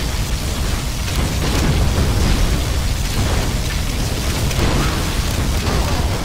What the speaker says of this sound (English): General, our enemy is using that particle cannon.